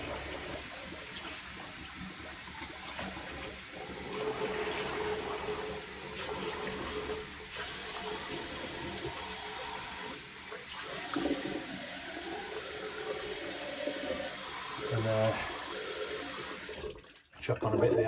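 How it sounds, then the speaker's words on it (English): A bathroom tap runs steadily while someone rinses their face after a shave, a continuous hiss of flowing water with splashes and small interruptions, then cut off abruptly near the end. "Wait a year for my cold water to come through."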